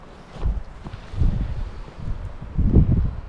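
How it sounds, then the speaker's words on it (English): Strong wind gusts buffet the microphone outdoors on a hillside during a hunt, coming in low rumbling surges of varying strength with no talk. "It's quite windy, eh?"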